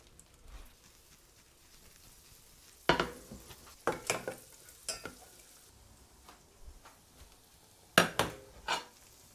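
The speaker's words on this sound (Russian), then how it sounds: "В сковороду добавляю сливочного масла. И добавляю немного нарубленного трюфеля." Sharp clatters of utensils and a frying pan over a soft background sizzle of butter, several loud knocks in bursts with quieter crackling between, close by.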